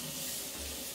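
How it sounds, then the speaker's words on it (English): A faucet runs steadily while hands are rinsed under it, a close, even hiss of splashing water filling the whole brief moment. "I'm gonna rinse my hands off real fast"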